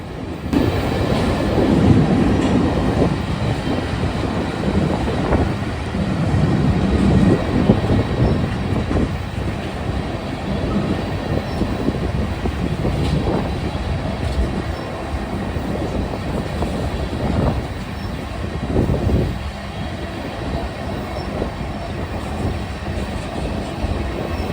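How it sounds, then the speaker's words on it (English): CSX mixed freight train M635 rolls past with a head end of three EMD SD70 Max locomotives and a GP38-3 and a GE unit mid-train, its steady rumble and rail clatter loud and continuous throughout. "Ohio, was CSX mixed freight train M635, with a very peculiar all-EMD lash-up on the head end"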